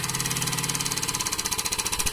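A motorized tire-mounting tool called a detonador, used to seat a tire on its rim, revs with a rapid rhythmic pulsing mechanical drone, loud, close and continuous, with no talking over it.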